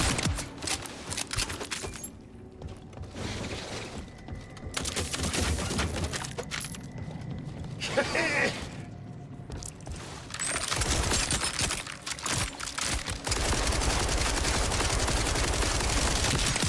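Gunfire from a weapon in a live-streamed shooter video game, dense crackling bursts and rapid shots filling the whole stretch, loud and continuous with brief dips, no talking.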